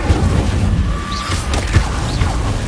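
The Incendio fire spell in Hogwarts Legacy gives a steady, dense whooshing roar of flame throughout, with a few faint tonal game effects layered over it.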